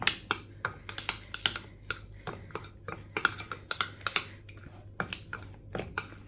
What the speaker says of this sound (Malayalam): ഇനി ഇതെല്ലാം കൂടിയിട്ട് തൈരിൽ നന്നായി മിക്സ് ചെയ്തെടുക്കുക